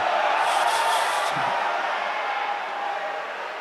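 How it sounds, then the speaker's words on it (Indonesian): A large audience at an education festival gathering claps in a dense, hissing wash of applause that holds steady, then gradually fades toward the end. "Tepuk tangan dulu untuk Kang Zaki."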